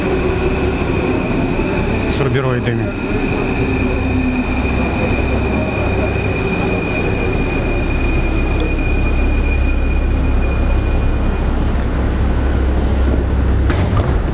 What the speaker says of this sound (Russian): Вот мы сейчас в метро. Приходит поезд.